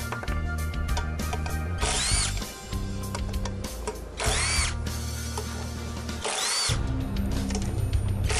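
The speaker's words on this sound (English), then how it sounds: "I'm gonna take all these bolts there out" A power tool removes bolts from a turbocharger's front housing in loud, close bursts of whirring and ratcheting, broken by short pauses and metallic handling clicks.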